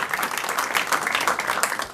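Audience applause welcoming an AK Parti member of parliament at a business association gathering, a dense, steady wash of clapping that fills the whole stretch at moderate loudness without pauses.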